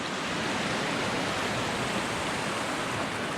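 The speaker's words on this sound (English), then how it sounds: "The waterfall starts over here." A waterfall on a river below cliffs of green schist, a dense, constant roar of falling water that stays loud and unbroken, with no voices.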